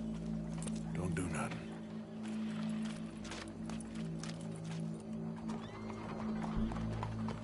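A horse in Red Dead Redemption 2 snorts and shifts about close by, its sounds set against a steady low in-game hum and background noise, with no clear hoofbeat rhythm.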